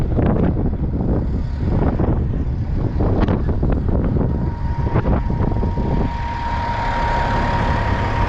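Strong wind buffets the microphone outdoors in steady rumbling gusts, with a faint sustained hum emerging in the latter half.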